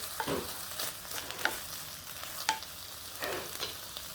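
Chili beef sizzling in a pan while a utensil stirs it with a few soft scrapes, close and steady.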